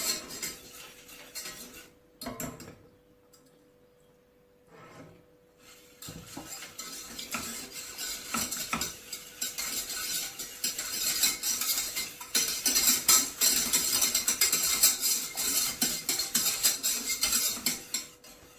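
A whisk scrapes and clatters around a pan of white sauce, starting softly after near silence and building to busy, continuous rattling and stirring, with no one talking.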